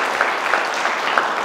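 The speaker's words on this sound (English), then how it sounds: "give her a round of applause" Brief, light applause from a small gathered audience at a Catholic talk evening, a steady patter of hands at moderate distance with a few sharper claps poking through, no speech over it.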